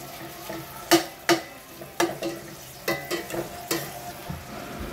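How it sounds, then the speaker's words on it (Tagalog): Bacon browning in a frying pan while being stirred, with a steady sizzle under repeated sharp scrapes and knocks of a utensil against the pan, close and fairly loud. "Saka ko binisa muna hanggang sa maging brown na yung bacon."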